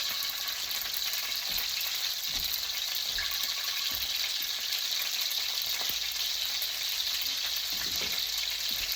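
Steak sizzles and fries steadily in a pan, a dense crackling hiss throughout with occasional soft pops and scrapes, close and fairly quiet with no talking.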